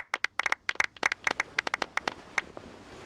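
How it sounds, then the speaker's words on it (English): Rapid, sharp hand claps ring out for the champion Kave at an award ceremony in Genshin Impact, a crisp irregular burst of applause that thins out toward the end, heard alone without voices. "Let's give our champion Kave one last big round of applause."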